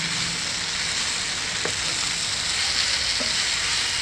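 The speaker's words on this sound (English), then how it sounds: "continue cooking this on medium to high flame until the tomatoes become mushy" Tomatoes fry in a pan over a medium to high flame for a pav bhaji style pasta, giving a steady, even sizzle throughout with a couple of faint clicks of stirring.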